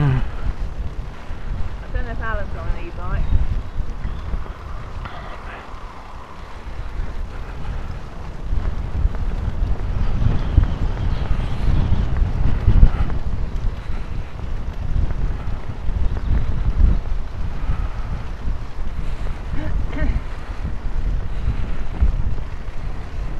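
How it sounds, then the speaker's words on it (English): Strong wind buffets the microphone during a group bike ride outdoors, a continuous loud roaring rumble that gusts up and down for the whole stretch. "That wind."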